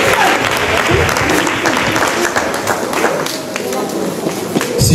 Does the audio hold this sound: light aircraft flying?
no